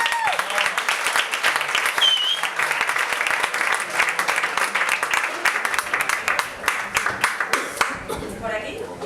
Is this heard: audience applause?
yes